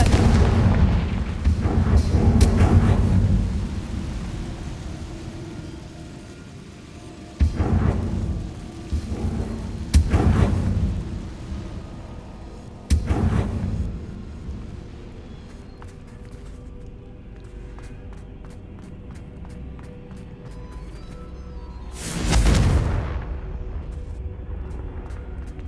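Confringo blasting-spell explosions in the Hogwarts Legacy video game: several loud, booming broadband blasts ring out near 1, 7.5, 10, 13 and 22 seconds, each trailing into rumbling decay over quieter ambient game sound.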